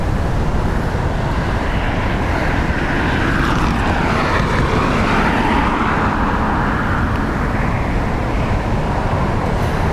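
Emirates airliner on approach in a stormy crosswind at Dublin Airport, a loud continuous jet roar that swells slightly and shifts in pitch, blended with heavy wind noise and no talk.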